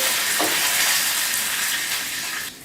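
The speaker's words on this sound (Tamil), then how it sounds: "கீரைக்கு வந்து பூண்டு போட்டு தாளித்தா நல்ல மணமாக இருக்கும்." Garlic, cumin and curry leaves crackle and sizzle in hot oil for a spinach tempering, a loud continuous frying hiss close by that cuts off abruptly near the end.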